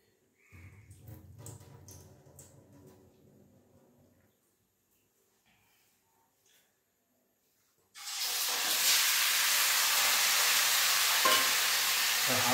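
Chicken pieces drop into hot oil in a home kitchen, and a sudden loud, dense sizzle bursts in after a stretch of quieter clatter and near silence, then holds steady and close.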